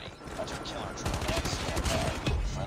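Hip-fire gunfire from a legendary gun in Call of Duty Mobile, a steady stream of rapid shots running throughout at moderate loudness with a dense, busy game mix underneath.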